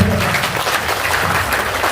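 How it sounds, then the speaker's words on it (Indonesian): An audience at a seminar on paying off debt claps together, a dense, fairly loud burst of applause heard on its own for a couple of seconds. "Tepuk tangan buat Bapak Ibu."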